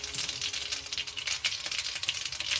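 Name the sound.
mustard seeds spluttering in hot ghee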